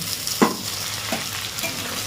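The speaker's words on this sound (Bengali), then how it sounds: "এর মধ্যে এবার আলুটা দিয়ে ভেজে নেব" Potatoes fry in hot oil alongside pointed gourd, a continuous sizzle broken by a couple of brief scraping stirs of a spatula in the pan.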